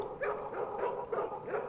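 A dog barking in the video game Broken Sword: The Smoking Mirror, a rapid string of about five yappy barks in steady rhythm, close and clear with no talking.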